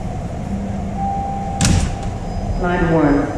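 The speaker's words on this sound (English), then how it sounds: "Doors will open on the left." A TTC Line 1 subway train pulls into St. Patrick Station, humming steadily before a chime and a burst of door movement, then a recorded announcement voice speaks over the rumble.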